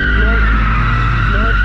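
A Subaru BRZ launches hard off the clutch, tires squealing loudly and continuously over a strong engine roar, close and sustained through the whole moment.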